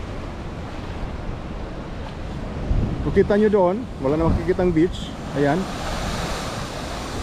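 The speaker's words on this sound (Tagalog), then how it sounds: "Malaki na yung mga alon dito." Rough surf from Hurricane Earl at Astwood Park, Bermuda, a constant loud roar of waves and wind noise with someone talking over it.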